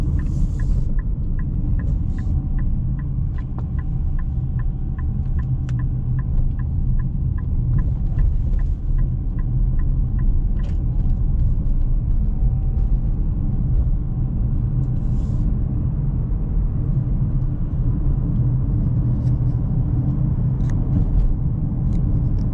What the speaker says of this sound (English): Sport revs it a little bit more, but it's a 1 litre engine